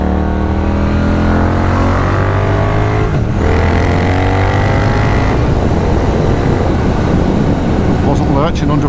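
A Triumph Thruxton RS motorcycle engine drones loudly and continuously while being ridden, its pitch climbing and easing with throttle changes, with wind rush mixed in throughout.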